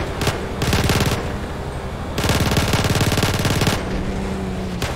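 Bursts of submachine gun fire in GTA 5, two long rapid volleys with short pauses between, loud and close over steady game background noise.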